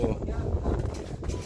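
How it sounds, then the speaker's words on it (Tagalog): Strong wind buffets the microphone outdoors at a house where skim coat plastering is being finished, a steady low rumble running throughout under people talking. "Lakas ng hangin."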